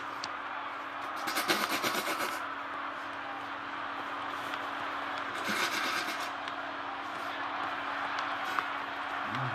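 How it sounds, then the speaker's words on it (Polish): Two bursts of forceful nose blowing, a raspy snort-like hiss, over a constant low hum of background noise. "słyszycie smarkanie"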